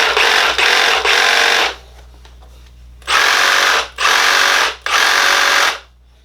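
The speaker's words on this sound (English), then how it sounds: "It's a Sawzall." A Milwaukee Sawzall reciprocating saw in orbital mode buzzes loudly and close, revving in five bursts: three quick runs, a pause, then three more, each a harsh, high whirring rattle.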